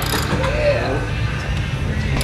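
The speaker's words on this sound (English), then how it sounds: "Evan uses Baker's tool number TOLB-56 to remove the inner primary bearing race" Baker TOLB-56 puller works on the inner primary bearing race of a motorcycle primary case, giving a steady mechanical grinding and creaking with a brief squeal, under a low continuous background hum.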